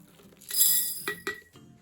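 A metal tablespoon clinks against a glass jar while scooping dry mung beans, a bright rattle followed by two sharp, close clinks, with no talking.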